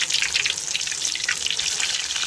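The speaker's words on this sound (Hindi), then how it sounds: "एक कढ़ाई में हमने ऑयल गरम कर लिया है। इसमें अब ब्रोस्ट पीसेस हम डालते जाएंगे" Chicken broast pieces deep-frying in hot oil in a kadai, giving a steady, loud, close sizzle with a dense bubbling crackle that runs throughout without pause.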